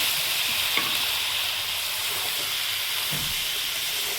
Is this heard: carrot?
yes